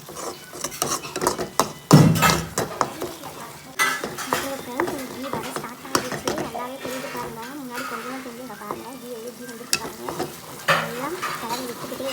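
Homemade ghee simmers and bubbles in a pan while a spoon scrapes and clinks against the metal in repeated stirring strokes, with a sharp knock near the start.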